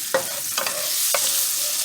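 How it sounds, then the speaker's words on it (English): Minced garlic stirred in a hot pan, a continuous close sizzle broken by three scraping utensil strokes, with no voices. "Go ahead and stir that around."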